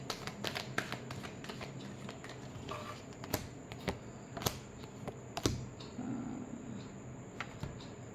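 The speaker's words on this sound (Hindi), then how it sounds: "last shuffle" Tarot cards being shuffled for a reading make quiet, dense rustling and flicking close by, with sharp riffle-like snaps scattered through and no talking.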